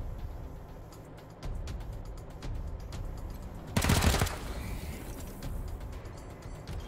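Gunfire in the video game Wasteland 3, a short loud crackling burst of shots lasting under a second against a steady game background hum and scattered faint clicks.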